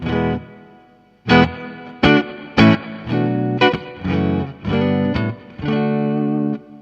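A clean electric guitar through an Epitome reverb pedal strikes a series of chords that ring out with a spacious reverb tail, each strum decaying before the next.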